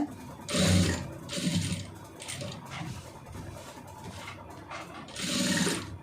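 A sewing machine stitches a blouse in short bursts of close mechanical whirring and clatter, separated by brief pauses.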